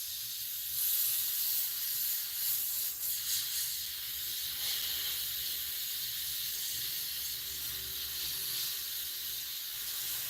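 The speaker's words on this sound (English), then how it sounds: "this is the hardest thing to airbrush because it's so thick" An airbrush sprays thick paint in a steady, continuous hiss that holds at an even, moderate level throughout, with no voices.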